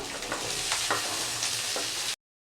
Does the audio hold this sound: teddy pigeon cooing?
no